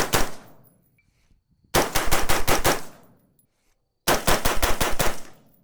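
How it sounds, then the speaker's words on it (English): Rapid rifle fire through a Steiner T6Xi low-power scope, heard as three fast strings of loud, crisp shots, each string lasting about a second with short pauses between them. "I just shot a bunch of runs that were under 2 seconds"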